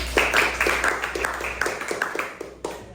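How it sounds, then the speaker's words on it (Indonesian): A small group claps for Siken in a classroom, a dozen or so loose, quick hand claps fading out over a few seconds. "kasih aplaus buat Siken"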